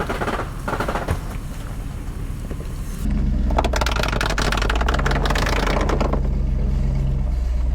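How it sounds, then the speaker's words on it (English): Rear tires of an overlanding vehicle rub against the inner fender liners at full suspension compression, a harsh scraping drone over loud engine and road rumble that grows heavier midway, with no talk. "So that sound is the rear tires rubbing on the inner fender liners"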